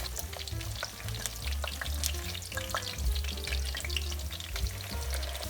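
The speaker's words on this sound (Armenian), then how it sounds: "վերցնում ենք կոտլետը, տեսեք ինչ կանգուն է ստացվել եւ արագ կերպով շրջում ենք մյուս կողմի" A zucchini cutlet, just flipped, fries in a pan with a close, steady sizzle, scattered crackles and faint low clinks of utensils, with no voices.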